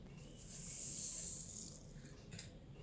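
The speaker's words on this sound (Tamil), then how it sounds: "இப்போ கடுகு போட்டுக்கிறேன்." Black mustard seeds dropped into hot oil for a Tamil tempering, giving a close, steady hiss with fine crackle that rises and then eases off, with no talking.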